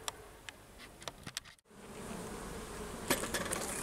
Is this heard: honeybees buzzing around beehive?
yes